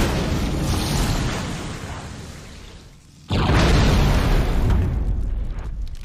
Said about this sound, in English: They always have to explode.